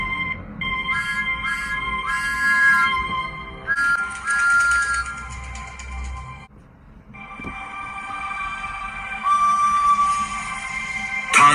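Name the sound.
steam engine whistle blowing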